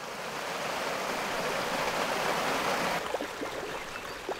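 Steady rushing water flows through a falaj irrigation channel in Oman, a continuous broadband wash that shifts slightly in tone partway through, with a few small splashes near the end.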